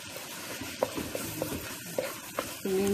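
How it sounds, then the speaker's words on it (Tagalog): Rice stuffing for mahshi, seasoned with salt, sugar and tomato paste, being stirred in a pot: spoon taps and scrapes come in a loose rhythm over a soft sizzle, close and clear, with no voices. "So, mix lang natin guys."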